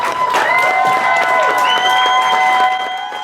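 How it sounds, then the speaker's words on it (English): Burlington Democrats gathered at Halverson's restaurant on Church Street cheer and clap as candidate Joan Shannon enters, a lively burst of applause and raised voices filling the room with bright chatter throughout. "The crowd cheered as Joan Shannon entered."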